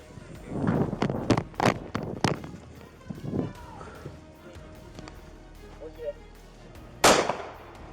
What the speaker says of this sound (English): 10 more shots fired, subject down.